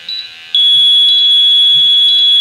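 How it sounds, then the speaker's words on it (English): A gas detector powering up: a shrill, piercing electronic tone starts abruptly and holds steady and loud, with a brief softer beep just before it. "It beeps at you."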